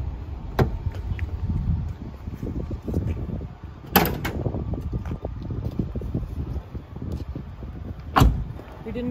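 A 2006 Honda S2000 convertible having its hood opened, with a few sharp metallic latch clunks and pops spread over several seconds against a low rumbling background, no voices.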